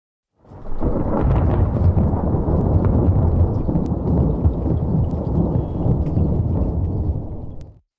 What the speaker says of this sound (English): It sounds like thunder.